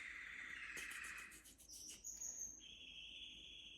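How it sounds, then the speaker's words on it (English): High, bright chirping calls repeat in quick bursts, followed by a steady thin trill, fairly close with no talking. "It's nice for a change to your bird sounds."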